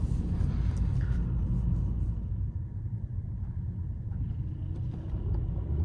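Steady low engine rumble of cars on a road, a continuous droning roar with no speech.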